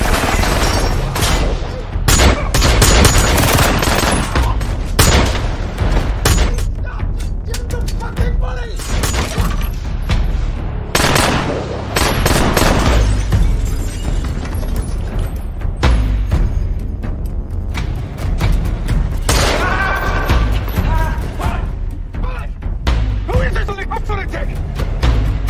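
Dense bursts of gunfire crackle and boom repeatedly in a chaotic action scene, with shattering and voices mixed in, loud and close.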